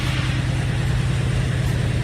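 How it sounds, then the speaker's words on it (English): A car does a burnout in place, its rear wheels spinning against the ground while the engine drones in a loud, steady, close rumble with no speech. "The rear wheels are turning, it's doing a burnout in place."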